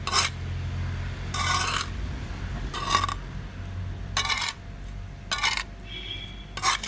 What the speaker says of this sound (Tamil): மண் கலவையை நல்லா கலந்துக்கணும்